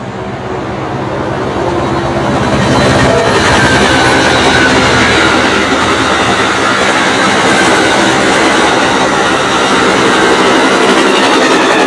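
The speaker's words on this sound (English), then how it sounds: "Amtrak's big game train locomotive leading 91 here at the Stanton Y" Amtrak 91 passenger train passing at the Stanton Y, led by a locomotive in a big-game paint scheme: a loud, steady broadband rumble and rail roar held close for the whole stretch, with faint clickety-clack over the wheels.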